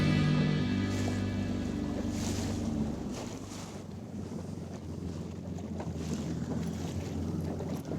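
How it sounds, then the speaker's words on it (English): Strong wind at sea, around 25 knots offshore on a fishing boat, blustering constantly against the microphone with rushing water and waves beneath, loud and unbroken throughout. "it's really windy"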